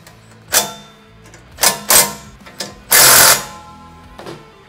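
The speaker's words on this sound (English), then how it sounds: "So I'm just gonna bolt on one side. So these are flanged, serrated nuts." Short bursts from a power driver or ratchet tighten flanged serrated nuts while bolting a part onto a Rascal GT Cruiser minibike, giving several brief whirs and one longer loud run, close by and without talking.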